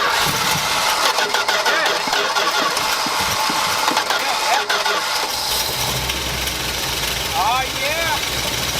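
A Dodge W250 truck's 318 V8 cranks and runs loud and close, revving repeatedly with a rough, steady roar, while people shout and talk excitedly over it.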